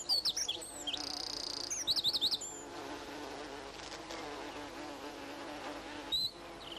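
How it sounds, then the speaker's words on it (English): Bumblebees and honeybees buzz steadily at close range along a hedge, with bright birdsong chirps and trills layered over the hum. "Several species of bumblebee and these honeybees live along the hedge"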